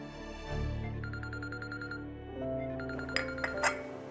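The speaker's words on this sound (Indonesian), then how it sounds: "Telepon Mami nih." A phone rings with repeated electronic chiming tones for an incoming call, moderately loud over a low background hum, with no one speaking.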